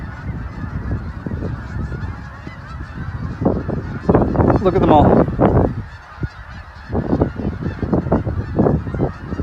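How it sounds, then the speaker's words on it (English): Many geese honk overhead in a dense, overlapping chorus, loud and continuous, with a person speaking briefly underneath. "all the geese heading south"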